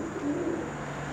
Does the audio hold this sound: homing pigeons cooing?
yes